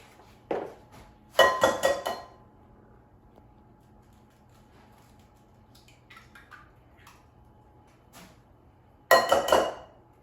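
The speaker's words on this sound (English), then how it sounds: "So I'm going to start off by whisking 2 eggs." Two eggs are whisked in a bowl, giving two short bursts of quick metallic clinking against the bowl's side separated by a quiet stretch, close and otherwise silent.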